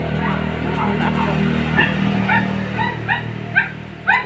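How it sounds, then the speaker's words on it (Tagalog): Dog yipping and whimpering in a series of short, high, close cries that grow sharper toward the end, over a steady low hum. "may aso pa ako sa taas na isa"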